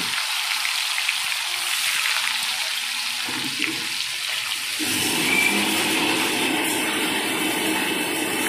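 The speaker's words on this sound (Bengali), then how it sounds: "এবার পনিরগুলো ওই তেলেই ভেজে নিচ্ছি।" Paneer pieces frying in hot oil, a steady broadband sizzle that grows louder and denser partway through, close and continuous with no talking.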